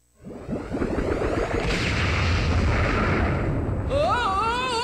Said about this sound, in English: If it weren't for that explosion, I never would have found you.